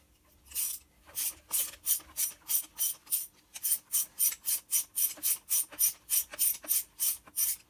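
A ratchet wrench clicks steadily while loosening a spark plug on a petrol Renault Clio 2, making about twenty evenly spaced crisp ratcheting strokes with a brief pause near the middle, close and clear, with no speech.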